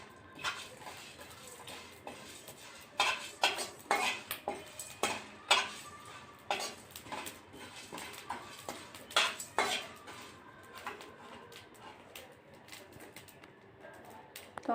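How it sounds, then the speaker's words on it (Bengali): Dried chillies, peppercorns, whole coriander and panch phoron dry-roasted in a pan, heard as quiet, sharp clinks and scrapes of a utensil on metal, clustered in bursts then thinning out. "শুকনো লঙ্কা, গোলমরিচ, গোটা ধনে আর তোমার পাঁচফোড়নগুলোকে ভেজে নেব।"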